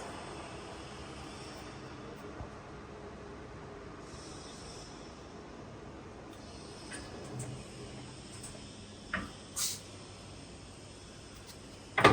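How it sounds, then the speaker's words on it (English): A Chin Yuan Hsing heavy-duty 900 mm precision lathe spindle runs at its top speed of 750 rpm, giving a faint, even mechanical drone with a few light clunks near the end. "Working of spindle at its maximum speed"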